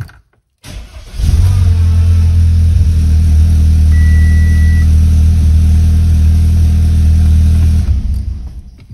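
Car engine at a repair shop, a 211-horsepower unit with about 172,000 on the clock and a replaced selector control board, starts after a brief gap and settles into a loud, steady close-up idle for several seconds before dropping away.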